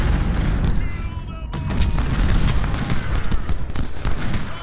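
Cannon and musket fire at a Civil War battle reenactment of Gaines Mill form a dense, continuous rumble of booms and crackling shots, loud and sustained, with a few distant shouts mixed in.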